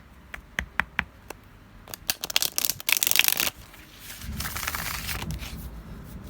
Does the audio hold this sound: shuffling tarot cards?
yes